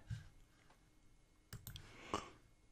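A few sharp computer mouse clicks, a soft one early, then a crisp cluster near the middle and another toward the end, close and quiet in an otherwise still room.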